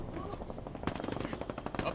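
Rapid machine gun fire rings out in Halo Infinite during an Oddball match, a dense run of sharp automatic bursts that starts partway in and repeats quickly, with faint game sounds underneath.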